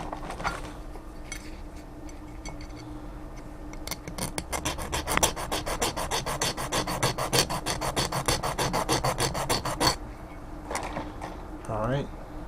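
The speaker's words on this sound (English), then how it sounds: "gotta go back and do some more filing" A metal file rasps across a piston ring being fitted for an Audi 2.7T engine block, starting with scattered strokes, then a fast run of even back-and-forth scrapes before a pause and a final faint scrape.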